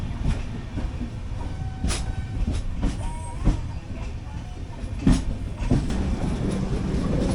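The Mangala Lakshadweep Express rolls on past Thivim station, its wheels beating a steady clickety-clack over the rails, with sharp joint clanks and a faint wheel squeal under the continuous rumble.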